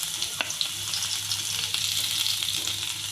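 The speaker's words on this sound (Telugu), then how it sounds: "1 టేబుల్ స్పూన్ ఆయిల్ వేసుకోవాలి. దీనిలో గార్లిక్ వేసుకోవాలి." Garlic fries in a tablespoon of oil for gobi manchurian, giving a close, steady crackling sizzle with small pops and a faint stirring scrape, with no voices.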